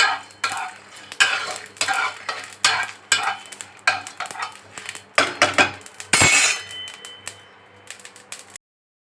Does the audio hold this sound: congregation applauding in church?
no